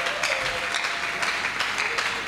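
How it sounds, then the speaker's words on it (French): A church congregation applauds during a French-language sermon, a dense, sustained clatter of many hands clapping at once, moderately loud and filling the space from start to finish. "Acclamons très fort pour celui qui est."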